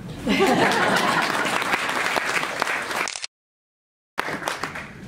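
Audience applause at a Seattle mayoral inauguration ceremony in Chinatown, dense clapping mixed with cheers and some laughter that cuts off abruptly, then resumes briefly after a short silence.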